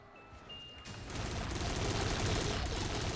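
Sustained rapid fire from the DCM gun in Call of Duty Black Ops 3 custom zombies, a Five Nights at Freddy's 2 map, swells in after a quiet start and then continues as a dense, loud stream of shots.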